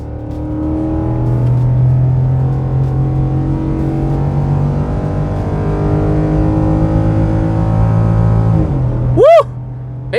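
Ford F150 pickup truck accelerating hard from 60 km/h on a highway, the engine note climbing steadily and loudly for several seconds before a brief shift, heard from inside the cab.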